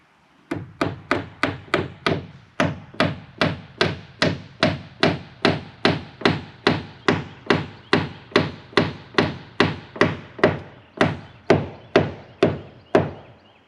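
A heavy blacksmithing hammer of one to two pounds drives small two-inch nails into OSB sheathing on pallet house walls, a rapid, regular run of loud, close, sharp whacks at about two per second that continues steadily for over twelve seconds.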